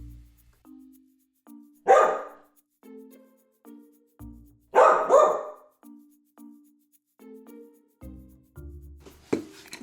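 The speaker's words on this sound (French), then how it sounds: "A dog, un chien." Danny Dog, a cartoon dog from Peppa Pig, gives two sharp barks several seconds apart, separated by short tonal blips and pauses.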